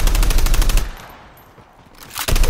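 Automatic gunfire in a video game, a fast rattling burst of shots, a brief pause, then another loud burst up close.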